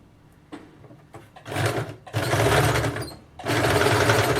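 An electric sewing machine stitches a blouse in short bursts, first a few brief taps, then longer steady whirring runs of rapid needle strokes, close and loud.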